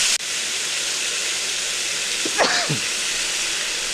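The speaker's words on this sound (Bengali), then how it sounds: "ছোট ছোট করে কেটে রেখেছিলাম আলুগুলো ভেজে নেব কড়াইয়ের মধ্যে দিয়ে দিচ্ছি আলুগুলো নেড়ে নিচ্ছি" Small-cut potatoes fry in a wok with a close, constant hiss of hot oil, broken by a brief whistling squeak as they are stirred.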